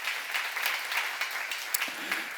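Congregation applause at a church seminar, a broad steady wash of many hands clapping for a couple of seconds with no voices.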